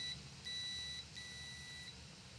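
A multimeter in continuity mode gives thin, steady electronic beeps, several short tones broken by brief gaps, clear against a quiet room hum.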